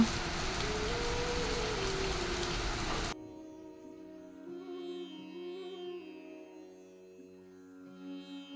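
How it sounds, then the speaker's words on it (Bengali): Steady, dense hiss of rain falls for about three seconds and then cuts off abruptly, leaving a quiet, faint background. "পুরে বৃষ্টি নামলো"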